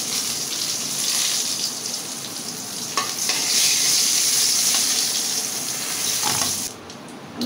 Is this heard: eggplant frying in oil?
yes